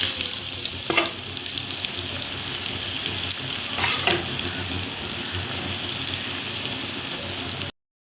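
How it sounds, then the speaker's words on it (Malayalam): Cauliflower pieces frying in hot coconut oil, a steady loud sizzle and crackle throughout with a couple of brief stirring clatters, no talking. "കോളിഫ്ലവർ നന്നായി ഫ്രൈ ആയിട്ടുണ്ട്."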